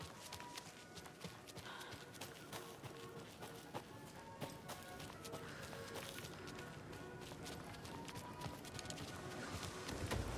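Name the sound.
footsteps in the video game Alan Wake 2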